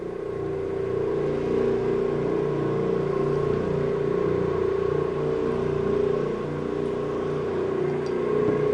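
Orbot Vibe carpet cleaning machine making a wet pass across a residential carpet, a steady droning motor whir with a strong tonal hum and a low rhythmic throb, constant and close throughout.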